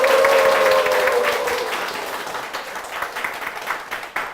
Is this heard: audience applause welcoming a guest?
yes